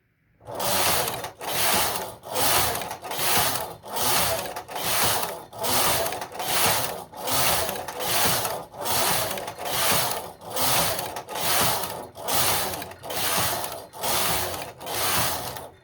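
Singer knitting machine carriage sliding back and forth across rows, producing a steady series of about fourteen evenly spaced rasping, clacking passes, each a loud swell of mechanical friction with brief pauses between, with no talking.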